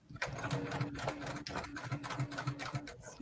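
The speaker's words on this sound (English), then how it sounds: "Okay, so I'm going to sew." A sewing machine stitches a fabric scrap with a rapid, steady mechanical whir and rhythmic needle chatter, close and continuous apart from a brief pause midway.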